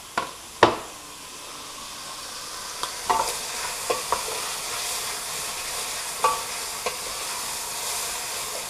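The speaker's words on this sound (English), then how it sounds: "Then we're going to throw in our squid." Squid sizzles steadily in an oiled pan, with a soft continuous fry hiss broken by several sharp clatters of stirring and utensil knocks against the pan.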